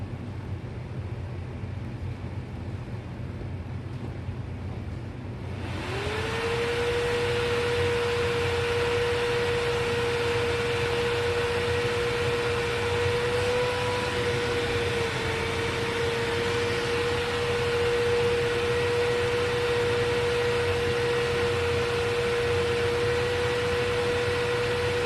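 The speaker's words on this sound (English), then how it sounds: "let's go ahead and crank the power all the way up" A Bosch Premium Electro Duo XXL vacuum ramps up to full power, then holds a loud, steady roar with a clear sustained whine that runs on unbroken.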